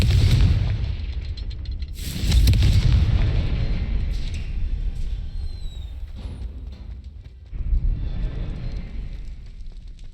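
Deep, booming blasts of the Confringo fire spell in Hogwarts Legacy, with a heavy hit near the start, a second big blast soon after, a lingering rumble and another thump later.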